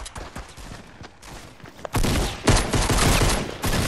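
Shotgun and pistol fire in a shooter game: scattered sharp shots early on, then a loud, dense volley of gunfire that keeps going to the end.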